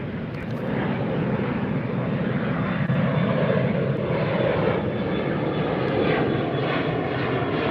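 Steady, loud roar of an Alaska Airlines jet airliner at LAX, heard near the beach during sunset planespotting; a broad continuous engine rumble with no voices.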